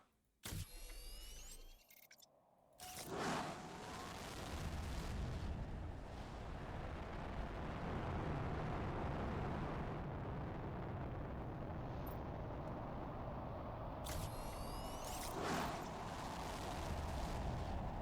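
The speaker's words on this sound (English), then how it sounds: "let's shoot off these rockets here" Rockets launch in Planet Crafter with a sharp burst, then a long, loud, roaring rumble that sustains steadily, and brief clicking bursts around the start and again near the end.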